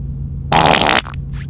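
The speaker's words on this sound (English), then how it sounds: "Listen, here's another fart. It's coming up." A single loud, close fart lasting about half a second, a buzzy burst that stops abruptly, followed by a couple of fainter trailing noises.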